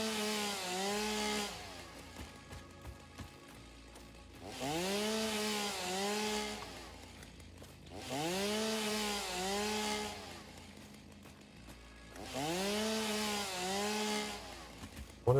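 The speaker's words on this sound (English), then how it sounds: "I wonder if the chainsaw will hit this rock." Chainsaw felling trees in the video game Satisfactory: four loud revving bursts of a few seconds each, pitch swooping up and down, with quieter idling between cuts and no talk.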